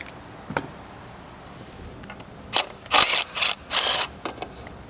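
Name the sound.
ratchet socket tool working on a Lexus belt tensioner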